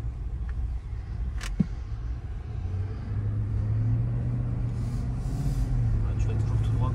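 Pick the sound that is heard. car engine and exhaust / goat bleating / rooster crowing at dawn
car engine and exhaust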